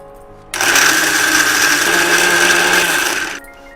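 A mixer grinder whirs loudly and steadily for about three seconds as it grinds leftover garelu with onion, starting and stopping abruptly.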